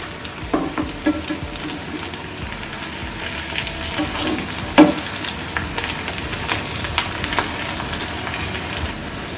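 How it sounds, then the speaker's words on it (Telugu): Vegetable cutlets fry in shallow oil in a pan, a close, steady sizzle with scattered pops and a brief clatter midway as they cook on the second side; no speech. "దీన్ని కూడా మరొక 2 నిమిషాలు ఇదే కలర్ వచ్చే వరకు వేయించుకోవాలి."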